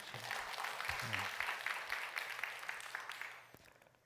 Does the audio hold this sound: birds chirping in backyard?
no